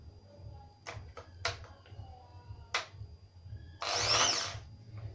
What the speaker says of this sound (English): So we're going to drill on this piece of wood to just see how the drill works.